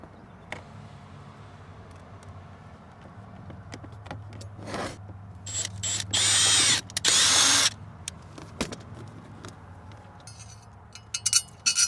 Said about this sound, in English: I'm gonna go ahead and mock this up and pre-drill my holes here.